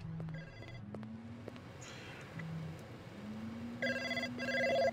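In the Blade Runner video game, an electronic telephone bell rings in short repeated bursts over a low musical drone and ambient hum, with no one talking.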